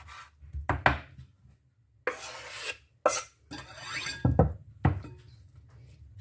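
A knife cuts tomatoes on a cutting board in a home kitchen, with several bursts of rasping, slicing strokes separated by short pauses and sharp knocks of the blade against the board.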